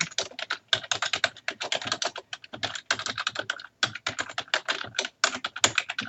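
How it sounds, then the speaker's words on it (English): Rapid, steady typing on a computer keyboard, dense bursts of key clicks close to the mic with only a couple of brief pauses, no voice over it. "I'm not very good at talking to you and typing at the same time"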